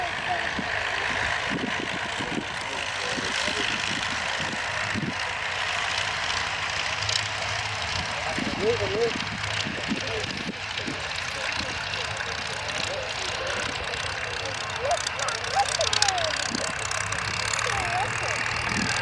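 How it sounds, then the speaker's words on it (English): A single-engine F-16 jet with a Pratt & Whitney F100 engine at a Leuchars airshow, a constant roaring engine drone heard from a distance for the whole span while people talk over it. "The F-16 is powered by a single engine, but that's a very special single engine, a Pratt & Whitney F100"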